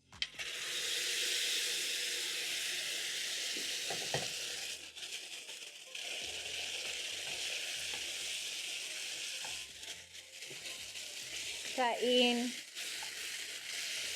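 Beef for tikka masala sizzling in a pan, a steady close hiss that runs for most of the stretch, joined near the end by a short clatter and a brief watery splash.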